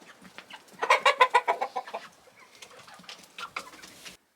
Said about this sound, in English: so it translates as Bjurholms chickens.